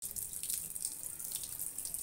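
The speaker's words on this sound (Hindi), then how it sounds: "अब मैं इसको वॉश करूँगी, कैसे नॉर्मल पानी से वॉश करूँगी" Tap water runs steadily into a sink as a face is washed with plain water, a continuous bright hiss with light splashing and no talk.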